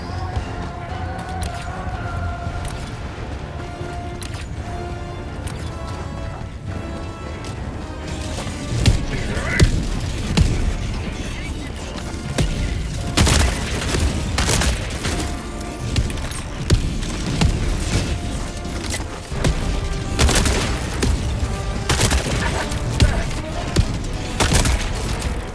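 Orbital strike explosions in Helldivers 2 boom out in repeated heavy blasts over dense battle noise, with gunfire, crashes and a siren-like tone layered into a loud, continuous game mix.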